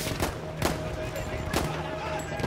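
Battlefield 1 gunfire cracks out in several sharp, evenly spaced shots over continuous battlefield din, fairly close and moderately loud.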